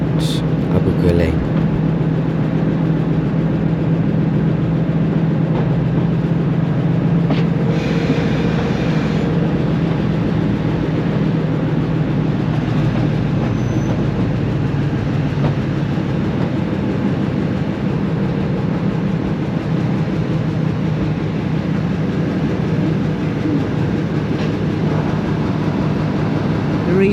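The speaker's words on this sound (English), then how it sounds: "number 7812 Ilstoke Manor in the station. This will be joining the back of the train" Steam locomotive 7812 Erlestoke Manor stands in a heritage railway station during a gala, a continuous low rumble and hiss of idling railway machinery with voices talking nearby.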